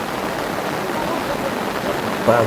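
Rain falls on an outdoor football pitch during a youth under-15 match, a steady broadband hiss throughout with a brief louder burst near the end.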